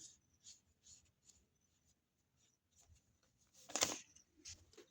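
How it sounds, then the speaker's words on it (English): Pencil or chalk tracing a jacket pattern onto Ankara fabric, a series of soft scratchy strokes with a louder, firmer scrape near the end, close and quiet with no talk. "You start marking, tracing it down."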